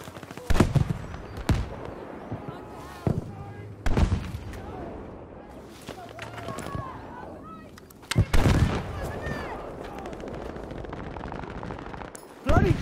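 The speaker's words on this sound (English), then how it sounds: "Bloody great tank." Battlefield V tank battle with heavy booming cannon blasts and bursts of gunfire spaced across the scene, loud and close, with a rumbling engine bed between and voices calling out in the mix.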